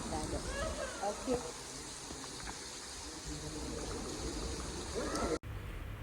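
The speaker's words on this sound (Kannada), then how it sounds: "ಎಲ್ಲ ಕಡೆನೂ ನೀರು ಬೀಳ್ತಾ ಇದೆ" Artificial rain pours from the ceiling of an indoor rain room, a steady hissing patter of falling water. It is continuous and moderately faint, and a brief cutoff comes near the end.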